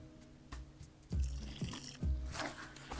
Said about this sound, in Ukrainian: зараз додаємо сюди ще трішечки води і гарно це все перемішуємо